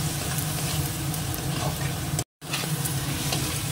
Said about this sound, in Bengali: এবার এটা ভেজে নেব।